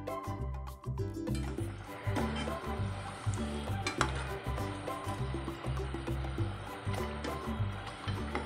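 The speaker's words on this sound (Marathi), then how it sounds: "तर तुम्ही बघू शकता कापण्या व्यवस्थित ह्या तेलामध्ये तळत आहेत।" Wheat flour and jaggery kapanya deep-frying in hot oil, a steady bubbling sizzle with soft clinks and stirring scrapes throughout, fairly close and even in level.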